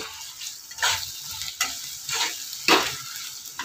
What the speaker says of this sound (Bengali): ভালো করে আমি আদা রসুন দিয়ে পেঁয়াজটা ভেজে নিয়েছি